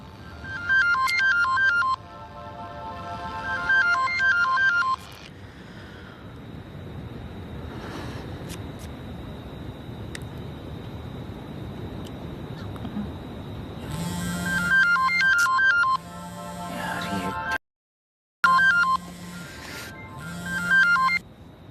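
Mobile phone ringtone ringing repeatedly, its bright melodic pattern sounding in bursts at the start and again near the end, with a muffled stretch of background noise in between.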